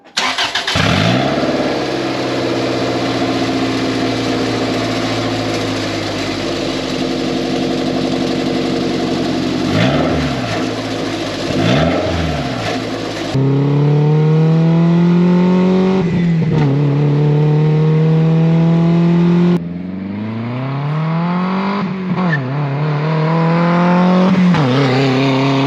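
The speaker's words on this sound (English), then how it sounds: "I do a 3K rev up because we didn't get to do it at the house." A Toyota MR2 Spider with a blown motor and a Lotus exhaust idles loudly and steadily, then revs up to around 3000 rpm several times with rising and falling engine pitch. The car is close and no one speaks.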